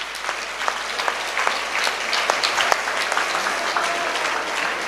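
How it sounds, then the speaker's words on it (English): An audience at a campus awards day applauds the shortlisted students with an even, dense patter of clapping that holds steady for several seconds. "A big round of applause for all our shortlisted achievers"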